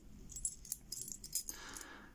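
Small metal keys from a collection, including an old Danish lever key, jangle and clink in a few brief bursts while being handled, close and fairly quiet, with no talking.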